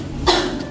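A single sharp cough from a person demonstrating an effective coughing technique, close and loud, lasting under half a second.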